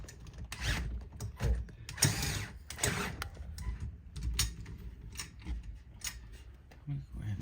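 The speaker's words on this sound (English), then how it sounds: "it's torque limiting, so it stops at like, I think the lowest is like 2 inch-pounds or something" A torque-limiting screwdriver in an office gives off a run of small mechanical clicks and ratcheting snaps, close by and irregular, with a voice talking over part of it.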